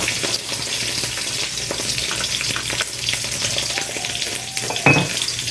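Fried rice cooks in a pan with a continuous close sizzle and crackle, steady in level, with a brief clatter near the end and no talking.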